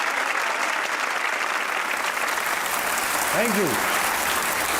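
A studio audience on the talk show Haarna Mana Hai applauds a guest's entrance, a continuous wash of clapping under a brief spoken thanks and a short tonal chirp.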